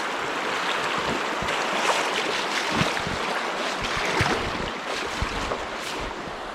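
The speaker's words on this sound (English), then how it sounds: "That water is moving pretty good." Rainwater rushing down a slick street during a rainy day, a steady broadband wash of flowing water with some wind buffeting, loud and close throughout with no voices.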